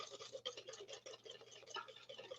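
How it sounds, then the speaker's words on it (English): Wire whisk beating sugar into beaten egg in a bowl, a fast steady scraping and clicking rhythm that holds at close range and low level throughout. "I'm going to whisk the sugar and the beaten egg together."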